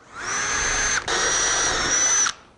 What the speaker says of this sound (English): my recommendation is to drill a hole right in each corner.